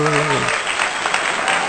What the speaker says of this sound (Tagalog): Palakpakat po natin ang ating mga sarili